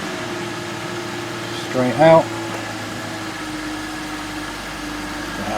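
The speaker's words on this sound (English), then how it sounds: "Start the engine." A BMW 528i E39 engine idles steadily with a low hum and fan whir, a short burst of cranking near the start, while someone speaks briefly over it.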